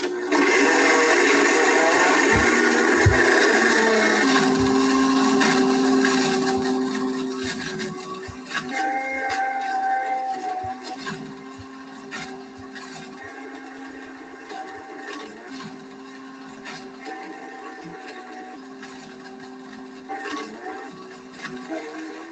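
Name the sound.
Blendtec Total Blender blending an iPad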